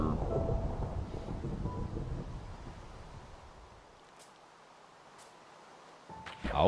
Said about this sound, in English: Thunder, thunder.